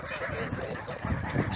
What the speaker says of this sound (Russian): Вот посмотрите, чужие гуси.